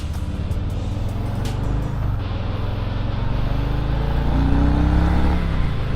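A 2020 Harley-Davidson Low Rider S motorcycle accelerating on a test ride, its engine a steady deep rumble that swells toward the end, with constant wind rush and no talking.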